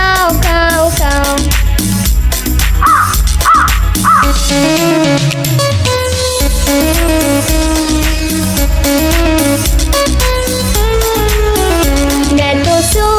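A sung voice imitates a crow's caw, repeating it three times over loud children's music with steady beat and melody.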